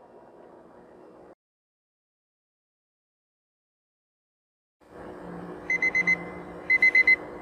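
A heat press timer going off, with two bursts of three or four rapid electronic beeps over a steady machine hum, close and clear with no talk.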